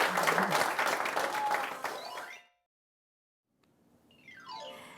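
A studio audience applauds a forensic investigator guest at a Korean career talk show, a dense burst of clapping that fades and cuts to silence before rising electronic sweeping tones.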